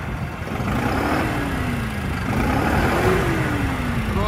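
A 2023 New Holland 5620 CRDI tractor with a 65 HP engine runs steadily and fairly loudly, its pitch climbing gradually as the revs build, with no talking.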